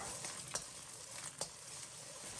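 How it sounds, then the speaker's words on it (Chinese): Beaten eggs stir-frying over high heat in plenty of hot oil in a wok, pushed and broken into large chunks with a ladle; a steady, fairly quiet sizzle with two sharp scrapes of the ladle against the pan. "开大火把鸡蛋炒熟，怼成大块。"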